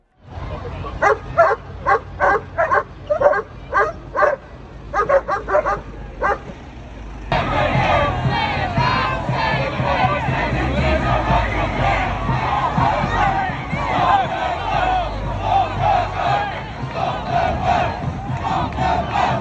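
Crowd of rioters in Plymouth, gathered around a local mosque while missiles fly at riot police, shouting in rhythmic bursts that swell into a continuous loud roar of many voices, with dogs barking in the mix.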